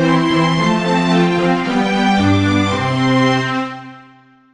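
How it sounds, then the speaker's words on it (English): A cartoon string section bows a smooth, sustained, harmonically rich passage whose chords shift partway through. It is loud and close, then the notes ring out and fade to silence. "They move their bows across their strings to make beautiful music,"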